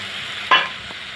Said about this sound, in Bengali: টমেটো কুচি নিয়ে ভালো করে নেড়ে চেড়ে মিশিয়ে নেবো